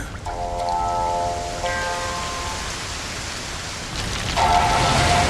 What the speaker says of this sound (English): Ominous clouds, torn apart, unleashing a torrent of rain.